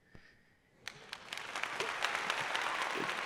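Applause from a gathered audience starts after a brief quiet moment, quickly swelling into dense, steady clapping that carries on to the end, fairly close and filling the room.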